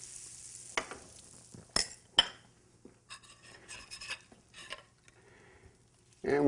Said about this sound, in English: You want to get the edges of the pan good and buttered.